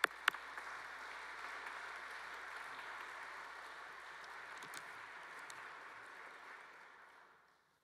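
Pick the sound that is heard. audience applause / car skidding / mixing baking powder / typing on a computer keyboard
audience applause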